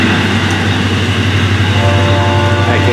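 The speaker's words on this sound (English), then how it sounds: "I can hear EMD power." An EMD-powered diesel locomotive of the Florida East Coast railway draws near, its low engine rumble loud and steady throughout.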